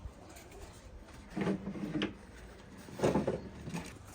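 Soft, low pigeon coos come in two short bursts against a quiet background hiss, at a Giribaz pigeon farm.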